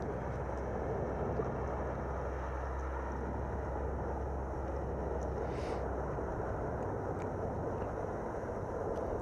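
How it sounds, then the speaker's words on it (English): A constant low rumble from an erupting volcano, steady and unbroken throughout, mixed with wind buffeting the microphone, fairly faint and distant-sounding with no voices. "It's a constant sound. And that thing is just erupting crazy."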